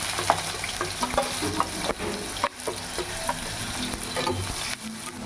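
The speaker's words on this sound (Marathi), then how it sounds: "लसूण छान कडकडतो तेलामध्ये भाजीला खूप स्वाद छान येतो लगेच मी कांदा टाकणार आहे" Garlic sizzling and crackling in hot oil in a pan for methi bhaji, a continuous close frying hiss with occasional stirring scrapes and pops, and no voice.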